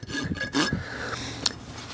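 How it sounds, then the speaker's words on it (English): Farrier's rasp sliding across a young horse's hoof, a few rough scraping strokes close by, gritty and fairly quiet, with no talk. "I'll start just sliding the rasp across it so they get used to that noise"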